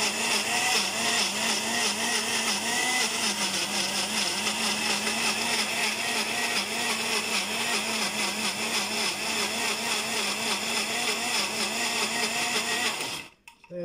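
A blender grinds sesame into tahini with a loud, steady whirring roar that holds unbroken for about thirteen seconds. It then cuts off abruptly, with no talk.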